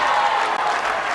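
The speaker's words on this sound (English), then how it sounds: "you heard the crowd that sort of getting behind her saying, yeah, go" A bowling crowd at a ladies' final claps and cheers steadily behind a player on her last frame, a dense, loud, continuous wash of applause.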